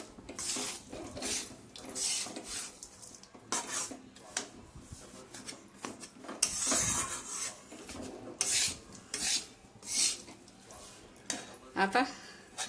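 Wheat flour laddu mixture, with cashews and almonds, is stirred and roasted in a pan: repeated scraping and rasping strokes at an irregular rhythm, close and fairly loud, with a voice talking at times.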